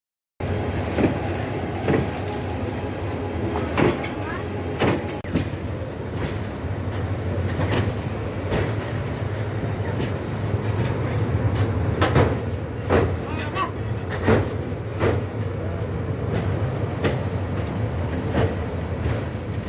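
The Mymensingh Express, a long-distance local train running from Jamuna Bridge East via Jamalpur and Mymensingh toward Chattogram, rumbles along continuously with repeated clickety-clack wheel beats and rattling carriages heard close up from on board.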